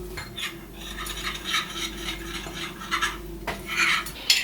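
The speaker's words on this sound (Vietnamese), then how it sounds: "Mình sẽ cho vào đây 3 thìa canh nước lạnh để hòa tan nó ra" Rice flour is stirred into three tablespoons of cold water to dissolve it for tofu pudding, a steady close-up swishing and scraping of a utensil against a bowl that continues throughout.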